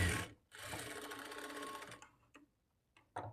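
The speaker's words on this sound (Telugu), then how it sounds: "ఇప్పుడు ఈ షేప్ బెల్ట్‌ని ఇలా ఫోల్డ్ చేసుకొని ఇంకొక స్టిచ్ వేసుకోవాలి" Sewing machine stitching a folded shape belt for a lined blouse, a steady close whirring run of about one and a half seconds after a brief burst, then stopping with a few faint clicks.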